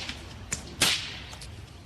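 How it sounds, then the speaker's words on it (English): Bullwhips cracked by a couple of men in a downtown riverside park: one sharp, loud crack stands out among a few fainter snaps over a quiet outdoor background. "It shows a couple of guys with bullwhips cracking them in a downtown park on the river"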